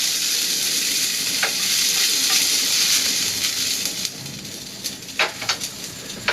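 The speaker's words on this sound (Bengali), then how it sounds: "আবার একটুখানি কড়াইয়ে তেল দিয়ে দিয়েছি, দিলাম অল্প একটু কালো জিরে, দিলাম 2টো তেজপাতা।" Nigella seeds and two bay leaves fry in a little oil in a wok, a strong continuous sizzle that gives way to scattered sharp crackles and pops near the end.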